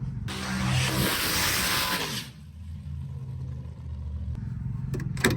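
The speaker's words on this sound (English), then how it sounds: "Second gear, mat it, do your burnout." A drag race car's engine roars loudly at high revs during a burnout for about two seconds, along with a harsh hiss. It then drops to a low, rumbling idle.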